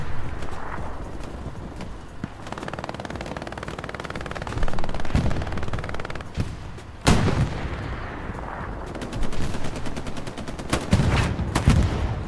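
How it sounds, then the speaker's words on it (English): Machine gun fire in Hell Let Loose on the Utah Beach map, a loud, continuous battlefield din of rattling automatic bursts, heavy thuds and sharp cracks, with denser rapid-fire bursts toward the end. "Out there running that MG."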